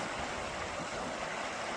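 A stream rushes steadily beside the listener, a constant broadband wash of flowing water with no breaks and no talking over it.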